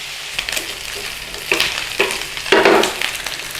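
Bacon sizzles and crackles steadily in a dry pan with no oil, rendering its own fat, with a few louder spits and stirring scrapes; close and fairly loud, with no talking.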